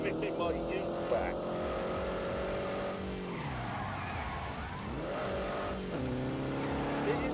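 A car in The Grand Tour Game racing game, engine droning and revving through gear changes with tire squeal, someone talking over it throughout.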